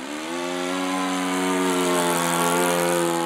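A 45-year-old model biplane's small engine drones steadily and loudly throughout, holding an even buzzing pitch with no talk over it.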